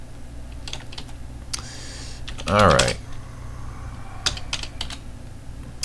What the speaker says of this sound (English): pull that switch and type on the keyboard